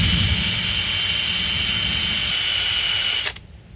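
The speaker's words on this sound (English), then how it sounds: "I was working that one spot down with a new 60 pad" Steady loud whir of a power sander working a damaged Redline wheel with a fresh coarse 60 grit pad, running continuously then cutting off abruptly near the end.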